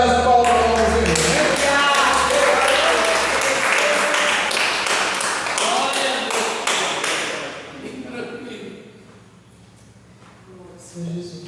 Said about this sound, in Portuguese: as palmas para vocês